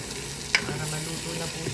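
Sautéed bitter gourd with egg being stirred in a sizzling pan, with one sharp utensil scrape against the pan early on over a continuous low frying crackle, close and brief.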